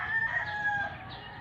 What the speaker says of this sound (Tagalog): At yung mga manok ay nagtitilaok pa.